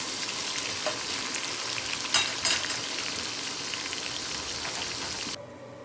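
Onions browning in oil for white mutton pulao give a steady, moderate sizzle, with two quick utensil taps partway through before the frying sound drops away at the end.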